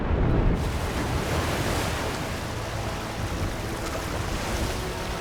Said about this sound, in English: The surging water now fights against him.